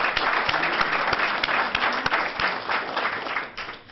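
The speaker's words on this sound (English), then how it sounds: "can I ask for another round of applause for Stonehill College for great job hosting this?" A crowd at a chamber of commerce legislative reception applauds the host college, with many hands clapping close and loud and a few sharp individual claps standing out before the sound tapers off.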